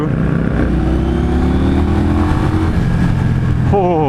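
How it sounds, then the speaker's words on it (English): A 2016 Indian Scout motorcycle engine revving up under acceleration, a loud close continuous drone with rising pitch, and a voice briefly audible near the end. "When you get into the upper RPMs, it just pulls hard."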